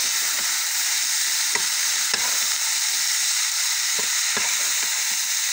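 Food frying in a pan with a dense, steady sizzle throughout, broken by a few clicks and scrapes as it is stirred.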